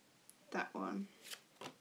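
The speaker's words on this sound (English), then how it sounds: "Let's just do another quick shuffle." Tarot cards are shuffled close up in a couple of quick riffling bursts, followed by soft taps and slides of cards, with faint breaths or murmurs in a quiet room.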